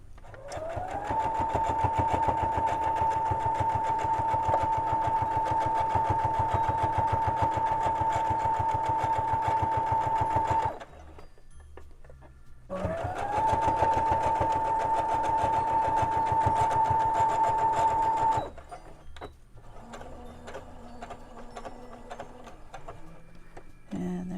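A sewing machine running a straight stitch across a fabric composition notebook cover, a steady whirring motor drone with fast needle ticking in two long runs, briefly paused between them and quieter at the end.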